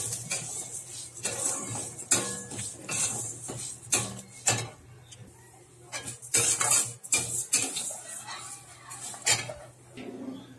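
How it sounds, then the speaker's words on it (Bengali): Lentils frying in a wok, close metallic scraping and clinking of a spatula stirring in uneven bursts over a faint sizzle, with a bird calling softly in the background. "এই কড়ার মধ্যে এই যে ডালটাকে ভেজে নিচ্ছি।"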